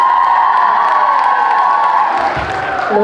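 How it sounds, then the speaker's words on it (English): A college hall audience at a women's college cultural day cheers to welcome a singer on stage, with high, sustained whoops and shouts over a loud crowd roar and some clapping. "Let's give a big round of applause and welcome her on stage"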